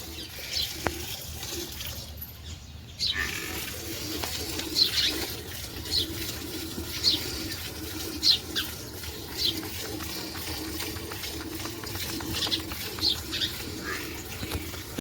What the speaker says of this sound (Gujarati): આ બધું કબૂતર ને ચકલીઓ બધા દાણા ખાવા આવી ગયા છે સવારમાં.